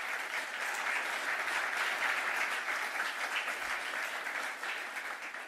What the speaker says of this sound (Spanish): Eso sí merecía un buen aplauso